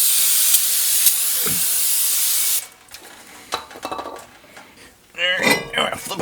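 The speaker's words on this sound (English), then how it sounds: "we're just gonna take some of the brake cleaner and we're gonna clean these off real quick" Brake cleaner sprays in a loud, steady hiss onto the oily front brake parts of a 2015 Toyota RAV4 Limited for about two and a half seconds, then stops, followed by metallic clinks of parts being handled and a brief second hiss.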